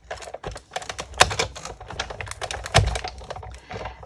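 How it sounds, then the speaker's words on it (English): Scissors slice through a thin aluminium drink can in a crafting session, giving a close, irregular series of crisp metallic snips and crunches with a couple of louder clunks. "let's just cut this and then we'll turn it the other way around and cut some more"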